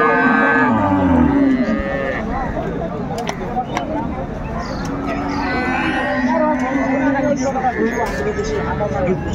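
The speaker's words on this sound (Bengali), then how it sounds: "গাভী বাছুরটি আমরা দেখছিলাম।" Cows and calves mooing at Ambari cattle market in Dinajpur, where improved-breed dairy cows and calves are sold; repeated close, loud moos over constant crowd chatter and bargaining voices.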